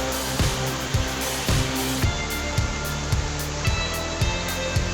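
Loud, steady roar of rushing water pouring down the multi-level Aguinid Waterfalls, a dense continuous wash of spray and splashing heard up close, with faint rhythmic pulses running through it.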